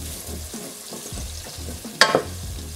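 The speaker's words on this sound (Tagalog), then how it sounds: "Halo lang kayo ng halo hanggang sa madurog na tong kamatis." Tomatoes sizzle in a hot pan while being stirred for pork binagoongan, a steady frying hiss with soft scraping strokes and one sharp clatter of the utensil near the end; no one speaks.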